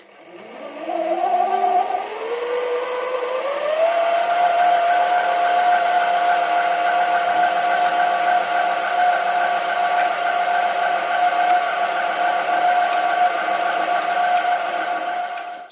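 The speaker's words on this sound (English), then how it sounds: "I'm just going to use this centre drill just to drill a little hole" A mini lathe spins a centre drill into a metal workpiece held against a live centre in the tailstock, giving a steady, close motor whine that climbs in pitch over the first few seconds and then holds even.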